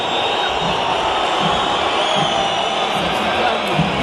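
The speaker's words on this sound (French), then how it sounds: "Ils applaudissent." A stadium crowd applauding during the Nice versus PSG football match in 2014, a dense, steady wash of clapping and crowd noise filling the whole stand with no single voice standing out.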